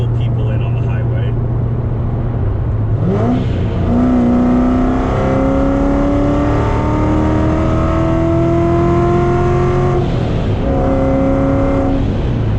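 A C7 Corvette cruises on the highway in a tall gear, its engine drone loud and steady inside the cabin, rising in pitch as it pulls, with a brief shift midway and voices talking over it.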